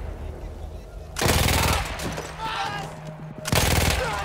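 Rapid bursts of automatic gunfire from a Battlefield 1 mission, two loud volleys separated by quieter background sounds of the game.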